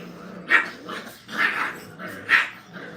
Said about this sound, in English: And then they all have the big growl.